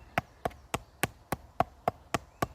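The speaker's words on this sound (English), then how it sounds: "then I just hammer on top of the pin" Sharp metallic hammer strikes on top of a metal pin set in a cabin pier ring out in a steady rhythm, nine evenly spaced taps, fairly close and crisp.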